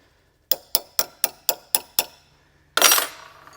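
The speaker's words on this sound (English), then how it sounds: "you can sometimes just pound a smaller size socket on it" A socket being hammered onto a bolt: seven evenly spaced sharp metallic strikes, close and loud, followed by a longer ringing clatter.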